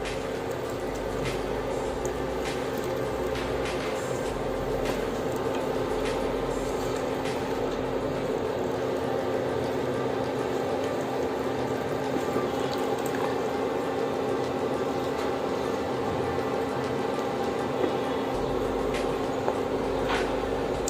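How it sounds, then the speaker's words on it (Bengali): Green mango pieces sizzle and are stirred in hot oil for a pickle, a steady close frying hiss with faint scraping ticks throughout, no voices. "আমরা সব আমগুলা গরম তেলের মধ্যে দিয়ে দিয়েছি। এখন 2-3টা নাড়াচাড়া করে"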